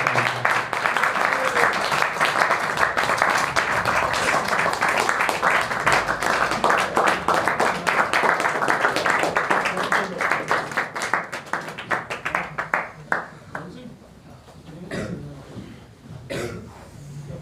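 Audience at a Hindi literary event claps and applauds in a dense, steady wave for about twelve seconds, then the clapping thins out into scattered claps and fades.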